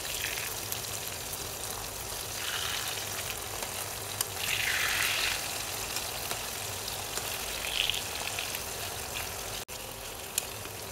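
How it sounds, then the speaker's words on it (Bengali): Tomatoes hit hot oil in a pan for a fish recipe, giving a steady close sizzle and crackle with brief louder bursts of spitting, no talking over it. "এখন দিয়ে দিচ্ছি গরম তেলে টমেটো"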